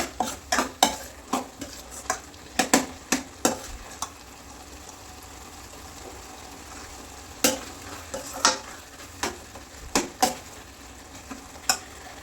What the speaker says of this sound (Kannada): ಎಲ್ಲ ಚೆನ್ನಾಗಿ ಮತ್ತೆ ಮಿಕ್ಸ್ ಮಾಡ್ತಾಯಿದ್ದೀನಿ